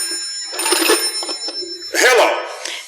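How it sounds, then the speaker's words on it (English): A telephone sound effect in an old-time radio show rings in two bursts of bell ringing separated by a short pause, fairly loud and alone. "the first citizen receives a phone call from the town gossip"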